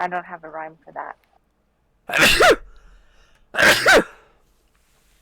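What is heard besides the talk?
sneeze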